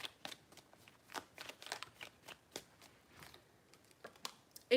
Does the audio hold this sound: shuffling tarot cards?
yes